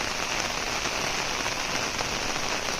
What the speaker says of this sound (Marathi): कंटिन्यू पाऊस पडतो आहे सकाळपासून सकाळी सात वाजल्यापासून चालू झालं आहे